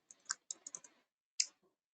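Computer keyboard typing: a few quick bursts of light clicks in the first second, a pause, then one more short clatter of keys, close and fairly quiet with no talking.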